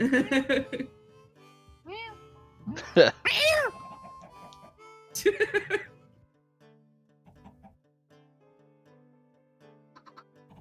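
A man imitates a cat with a few rising and falling vocal meows, fairly close and clear, with brief laughter and chatter around them before the sound fades to near silence.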